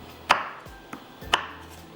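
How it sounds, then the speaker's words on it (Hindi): Chocolate is chopped into pieces with a knife on a cutting board in a home kitchen, two crisp close chops with a lighter tap between them and no talk. "हम यहाँ पर चॉकलेट को टुकड़ों में काटेंगे"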